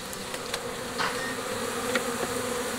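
A honeybee swarm buzzes steadily inside a hive box during a beekeeping inspection, a dense, continuous drone held at an even level for the whole stretch with no voices over it.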